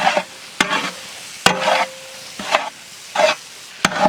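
Chicken being stirred into frying masala in a pan for samosa filling, with a spoon scraping in repeated bursts over a steady sizzle, close and fairly loud, with no talking.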